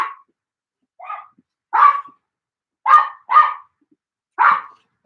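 A pet dog gives a string of short, sharp barks indoors, about six in a row at irregular intervals, close and moderately loud with quiet pauses between them.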